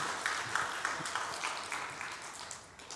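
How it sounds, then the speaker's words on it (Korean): An audience gathered for a sermon claps together, a dense patter of hands that rises and dips in waves over a few seconds. "박수 한번 주시겠어요?"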